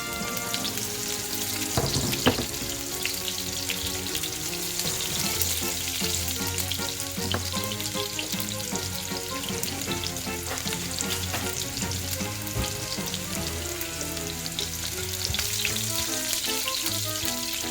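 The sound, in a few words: garlic and onions frying in a hot pan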